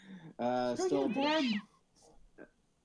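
A pet cat lets out a drawn-out, wavering meow up close, followed by a few faint softer sounds and quiet moments.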